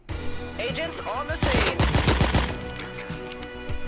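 Gunfire from the video game Door Kickers: Action Squad, with loud rapid shots clustered in the middle over game music and effects, and a person talking earlier in the clip.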